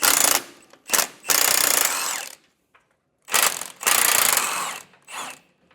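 Rapid bursts of an impact wrench loosening 18 mm nut and 15 mm bolt fasteners on the front sway bar of a 2004 Ford F-53 chassis, four loud close rattling bursts separated by short pauses.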